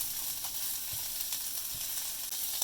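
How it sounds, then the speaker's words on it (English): Rice for risotto sizzles and crackles quietly in a hot pan, a steady fine hiss with occasional soft stirring scrapes, heard alone without talk. "And you have to let that sizzle"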